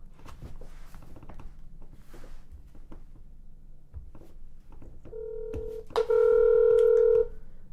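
Telephone dialing tones ring out while calling the Cuyahoga County, Ohio prosecutor's office: soft scattered taps and clicks, then a short tone followed by a louder sustained tone lasting about a second, close and clear.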